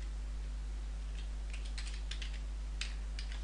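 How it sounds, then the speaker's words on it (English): Quiet computer keyboard typing comes in short clustered bursts of keystrokes over a steady low electrical hum. "So I type in the domain name and the group name."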